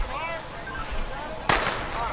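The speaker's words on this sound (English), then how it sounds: "The gun is up." A starting pistol fires once at the start of a women's 400 m sprint race, a single sharp crack about two-thirds of the way in over low crowd murmur.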